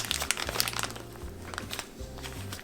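A plastic zip bag crinkles and rustles as chocolate hazelnut paste is spooned into it by teaspoon, a close series of crisp irregular crackles and scrapes over a low background hum, with no talk.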